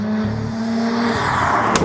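A Nissan GT-R with its VR38 engine drives on a road, giving a loud, close, continuous engine drone that shifts pitch as it accelerates. No talking is heard over it.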